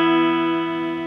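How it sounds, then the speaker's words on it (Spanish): Electric guitar played clean through a cheap amplifier: a single sustained chord ringing with rich harmonics, steady and loud, slowly decaying. "Ahora está limpio y vamos a escucharlo."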